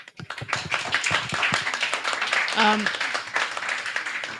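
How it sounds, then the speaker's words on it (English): An audience at a panel discussion on renewable energy gives a round of applause, dense overlapping clapping that runs steadily throughout, with a brief voice heard partway through. "So give them a big round of applause."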